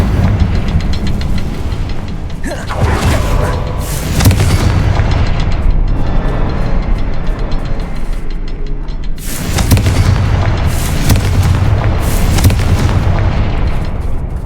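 Repeated Confringo fire-spell blasts in the video game Hogwarts Legacy, loud booming explosions with crackling bursts over a dense, continuous rumble of game ambience, with no talking.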